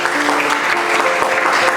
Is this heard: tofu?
no